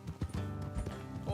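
Rhythmic clip-clop of horse hooves trotting at a steady pace in the video game Red Dead Redemption 2, close and clear, with faint ambient sound behind.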